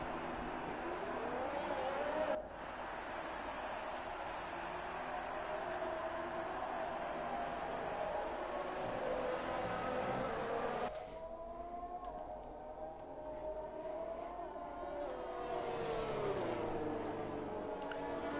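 F4 race cars on a formation lap in a racing game set in Australia, a steady, moderately loud engine drone with rising and falling whining pitches as the cars accelerate and shift, continuous throughout with a faint voice in places.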